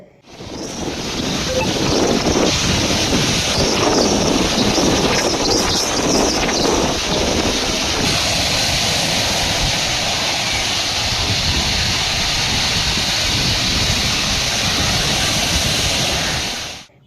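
A rough sea whipped up by cyclone winds at Rameswaram roars steadily and loudly, with surf and strong wind buffeting the microphone throughout.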